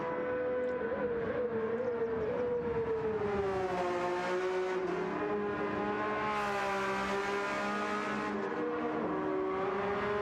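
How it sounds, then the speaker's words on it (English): A Porsche Cup race car in a sim race at Spa-Francorchamps, its engine revving hard and steadily with a rising and falling pitch that holds loud and close for about ten seconds. "Mario revving the absolute nuts and bolts off of that Porsche"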